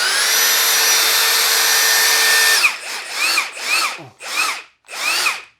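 A Milwaukee M18 Fuel high torque impact wrench runs at speed 3 with a loud, steady whine for a couple of seconds, then fires four short bursts, each rising and stopping abruptly, close and alone.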